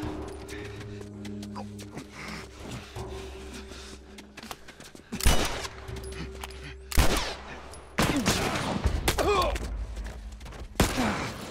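Gunfire in The Last of Us Remastered, several loud, sharp bursts of shots breaking in after a quieter stretch, with someone talking in between.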